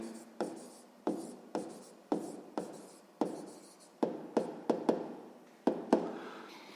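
A pen writes on paper while working a sixth-grade math proportion exercise, giving a quiet, close series of about fifteen sharp taps and short scratchy strokes in an uneven rhythm, with no talking.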